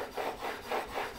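A hand plane iron rubbed back and forth on a 1,000 grit sharpening stone, giving about four soft rasping strokes in a steady rhythm, close and fairly quiet.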